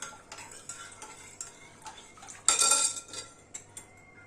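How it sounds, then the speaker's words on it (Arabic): A spoon stirring a pickle mixture in a pot until it dissolves, soft repeated scraping strokes with one louder clinking burst midway, close and fairly quiet, no voices. "نقلبها كده لحد ما تدوب خالص"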